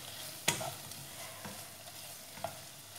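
Prawns sizzle in a pan as sauce goes in, a soft continuous frying hiss broken by a sharp clink near the start and a smaller knock later, with no one talking.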